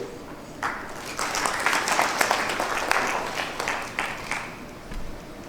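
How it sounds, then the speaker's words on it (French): Audience applause at a United Nations event follows the introduction of a former tourism minister, a broad patter of clapping rising after a quiet start and holding steady before tapering off near the end. "Merci de l'applaudir."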